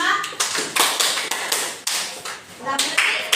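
Sharp, close hand claps from a classroom ice-breaker clapping game counting one to five, struck in short uneven bursts while a voice talks between them.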